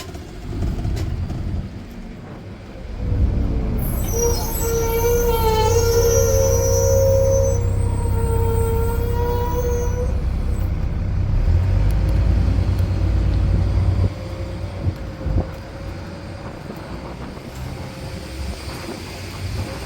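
A tour bus pulls in to a stop at a farm park. A loud engine drone and a whining tone rise and hold for several seconds, then drop away to quieter idling and road noise.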